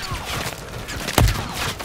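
Gunfire in the Call of Duty video game rattles as a dense battlefield wash, with one sharp, loud shot standing out midway.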